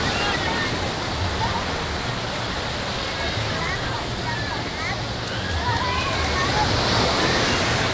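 Surf rolls continuously onto Pasir Putih beach at Carita in rough weather. The steady wash of waves fills the air, with faint voices of visitors mixed into the noise.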